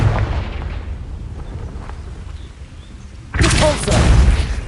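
A Confringo blasting spell going off in Hogwarts Legacy: a sudden loud burst erupts after a stretch of low rumbling ambience and carries on as a dense, sustained blast for over a second.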